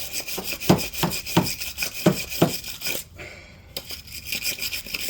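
A brush scrubs a brake caliper on a 2004 Buick Century with about five quick, rhythmic rasping strokes, close and fairly quiet, followed by a short pause and more faint scrubbing.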